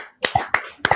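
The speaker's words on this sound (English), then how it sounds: "We have a studio audience here live that are clapping." A tiny studio audience of two clapping, giving a few sparse, sharp, close claps in about one second with no talk.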